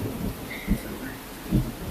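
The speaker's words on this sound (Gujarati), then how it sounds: "જો એમ બાકી કડાકા ભડાકા થાય છે" Two low, muffled rumbles of thunder roll in during the first monsoon rain. Each is brief and comes about a second apart over a steady hiss of rainfall.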